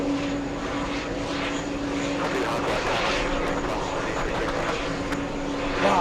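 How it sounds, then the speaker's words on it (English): An Australian Air Force aircraft on runway 13 left produces a steady, rumbling engine roar that stays at a constant level throughout, heard from an airport viewing spot with no talk. "We have the Australian Air Force on runway 13 left."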